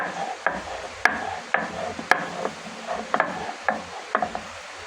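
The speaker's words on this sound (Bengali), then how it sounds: "আমি এখন সিমের বিচিগুলা বেটে নেব সুন্দর করে" Hyacinth bean seeds are ground into a paste with a steady, rhythmic scraping and knocking, repeated strokes roughly every half second, close and moderately loud.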